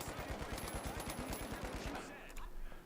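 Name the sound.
sniper gunfire in a video game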